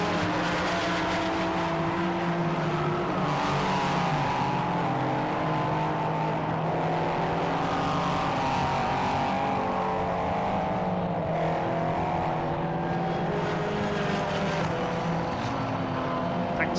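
Race cars in a Britcar endurance race at Silverstone, including a Porsche, make a steady, continuous engine roar with layered tones rising and falling throughout, loud and sustained with no pauses.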